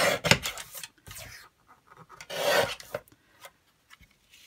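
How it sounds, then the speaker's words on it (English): A small Tonic paper guillotine trims the white edge off a photograph for a mini junk-journal notebook. It gives a few quiet, close scraping and slicing rasps in short bursts separated by silence, with no voices. "I'm just going to cut it. This is a little tonic guillotine."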